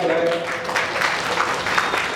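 Applause from the audience at the Bombay Bakers' Association general body meeting, a brief burst of dense clapping lasting about two seconds with some crowd noise mixed in.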